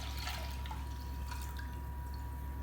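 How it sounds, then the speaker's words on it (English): Vinegar pours into a saucepan at home, a faint, soft liquid trickle with light dripping over low background hum, no voices. "So first, you need to add all your vinegar into the saucepan."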